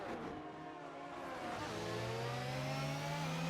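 F1 cars in a racing video game at the Netherlands GP roar past at high revs, a loud continuous whine rising in pitch as engines accelerate, with several cars layered together.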